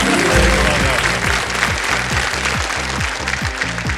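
Studio audience applause on a TV quiz show stage, dense and loud clapping that starts strong and carries on steadily, with a rhythmic music beat pulsing underneath.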